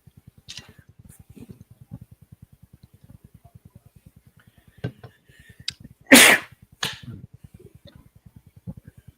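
A loud, sharp sneeze breaks out over a steady ticking pulse in the background, with a couple of softer breathy sounds around it.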